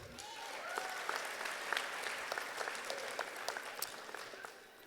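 A college commencement audience applauds its award recipients with steady, sustained clapping, a few sharper individual claps standing out above the crowd before it fades slightly toward the end.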